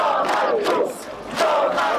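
Huge crowd at a Polish opposition rally, a loud massed roar of chanting voices that swells and dips in waves, heard close and dense without a single clear voice.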